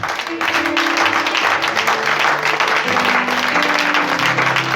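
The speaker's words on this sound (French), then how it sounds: "Est-ce que nous pouvons acclamer fort pour Jésus?" A church congregation bursts into loud, sustained applause and cheering during a Sunday worship service, a dense wash of clapping that fills the room throughout, with sustained musical tones underneath.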